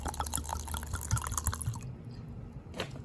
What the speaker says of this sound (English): And now I am going to just fill it up with water.